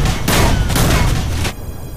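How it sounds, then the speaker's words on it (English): Sustained volley of turret gunfire in the sci-fi strategy shooter Nuclear Dawn, a dense, loud barrage of rapid shots that runs for about a second and a half before abruptly cutting to quieter background noise. "Where was I even being shot from? Structure from the two turrets."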